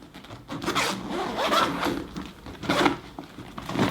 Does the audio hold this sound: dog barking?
no